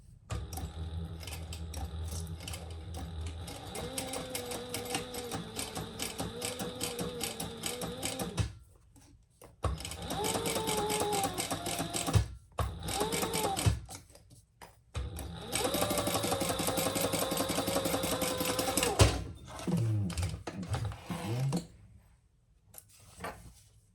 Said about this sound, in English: Let's stitch this together at seam allowance in the pattern.